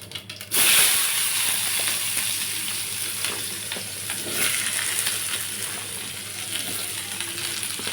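Thick lengthwise-sliced onions drop into hot oil where mustard seeds have been spluttering, setting off a loud, steady sizzle that holds for several seconds, with faint stirring scrapes. It is made for a Karnataka-style onion palya.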